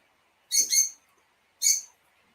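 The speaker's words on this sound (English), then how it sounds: "Lots of birds are going mental." Bird calls ring out in a few sharp, bright bursts: a double call, a pause, then a single call, fairly close and loud against a quiet background.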